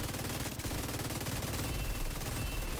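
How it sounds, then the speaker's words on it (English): Rapid automatic weapon fire from The Division 2 video game, a dense continuous stream of shots with game audio layered throughout, loud and steady without pause. "how fast the weapons are going to be shooting"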